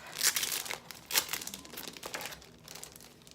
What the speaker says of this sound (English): these are paper strips that are already die cut.